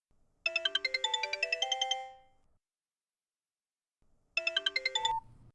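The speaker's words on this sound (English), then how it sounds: "The next day, my husband got another phone call." A phone ringtone sound effect in a ghost story podcast: a bright melodic run of chiming notes plays for about two seconds, pauses, then starts again and cuts off, clear and alone.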